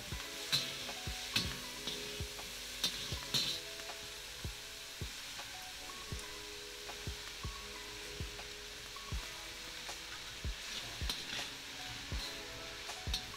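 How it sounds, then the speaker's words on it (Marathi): Spring onion greens sautéing in hot oil in a pan, with a low steady sizzle and repeated scraping stirs of a spoon running throughout, fairly quiet and close, without talk. "आता आपण कांदा पात घालूयात, कांदा पात छान परतून घेऊयात।"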